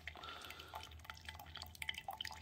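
Coffee drips and trickles through a GSI Outdoors Java Drip pour-over filter, a faint, steady patter of small droplets and liquid falling close by, with no talking.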